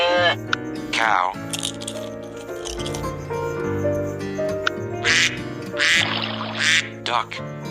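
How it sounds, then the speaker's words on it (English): A duck quacks in a children's animal-sounds learning segment, with several distinct quacks in bursts over steady background music. "Duck."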